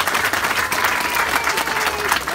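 Dense audience applause fills a groundbreaking ceremony for an aquatic therapy pool as donors are thanked, a loud, steady wash of many hands clapping together with crowd noise mixed in.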